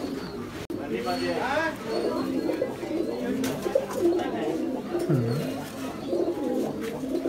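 High flyer pigeons coo repeatedly, close by in a loft or market, soft throaty warbles overlapping beneath people talking throughout.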